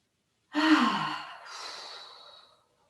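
A single forceful exhalation during a seated Qi Gong exercise, a strong breathy whoosh that tails off into a softer, longer release of breath, close and alone in near silence.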